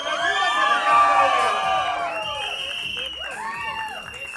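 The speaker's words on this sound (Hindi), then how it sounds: "नवाज भाई के लिए जोरदार तालियां" A crowd at a film trailer launch cheers and shouts loudly, with whoops and excited voices rising and falling and little distinct clapping.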